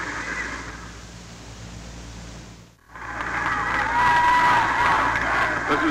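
A large crowd of over 19,000 at a 1968 Dayton versus Kansas college basketball game at Madison Square Garden roars and cheers, a steady distant wash that dips briefly and then swells louder.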